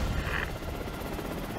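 Helicopter in the video game Prototype, a steady low rotor drone that holds evenly for the whole moment, moderately loud and continuous with no voices over it.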